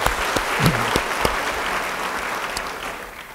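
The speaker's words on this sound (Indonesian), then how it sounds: "beri tepuk tangan yang baik buat Tuhan." A church congregation claps for God during a sermon, loud sustained applause with a few sharp individual claps standing out near the start, then easing slightly as it continues.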